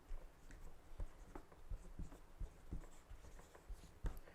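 A pen scratches across paper in quick, faint strokes and taps while the C major scale is written out by hand, close and quiet with no talking.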